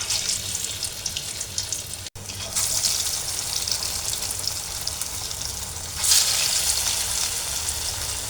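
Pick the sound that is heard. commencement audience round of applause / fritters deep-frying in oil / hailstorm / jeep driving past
fritters deep-frying in oil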